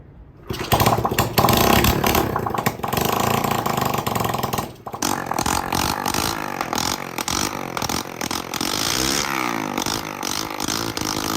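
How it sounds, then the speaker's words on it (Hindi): A rebuilt motorcycle engine fires up after a short silence and runs loud and close, a raspy, rattling idle with uneven revving and brief throttle dips, alone without talk. "तो उसके बाद जी बारी आती है जी इस बाइक को स्टार्ट करने की, मतलब कि एको को ज़िंदा करने की।"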